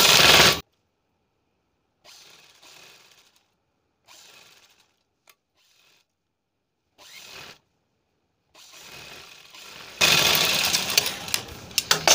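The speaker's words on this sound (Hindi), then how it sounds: "हमें इस तरह से मिला के रखना है इसे और एक पैर का दबाव देते हुए सिलाई लगानी है।" Sewing machine stitching a princess-cut blouse, running in several short separate bursts with silent pauses between, ending in a longer, louder run of stitching.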